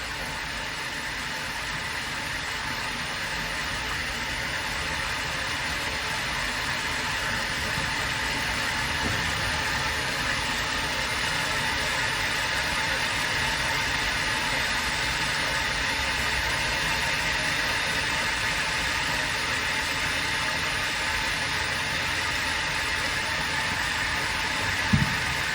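A Nastec 4HS MultiPower pump runs with its discharge valve gated back at about 2.5 bar, giving a steady, loud broadband hum and hiss that continues unchanged throughout, with no voices.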